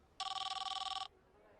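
A telephone bell rings in one steady trilling burst of about a second, close and clear against a quiet background, then stops.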